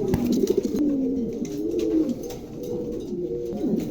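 Lakha pigeons coo steadily in low, throaty rolling calls, several overlapping close by, with faint rustling in the background.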